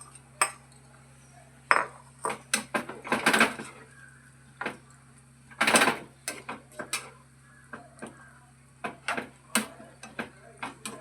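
A spoon scrapes and clinks against a pan while fried eggs go into an eggplant curry, giving sharp metallic taps and short scrapes at an irregular pace, close by over a steady low hum.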